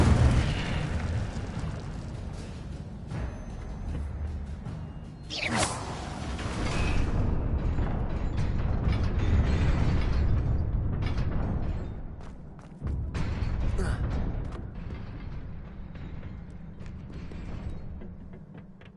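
An Incendio fire spell cast in Hogwarts Legacy, a rushing fiery burst with booming whooshes and crackling swells that rise and fall over several seconds, fairly loud and without talk.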